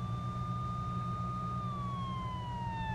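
A police car siren in a driving video game wails steadily and then slides downward in pitch, sounding over a constant low engine hum.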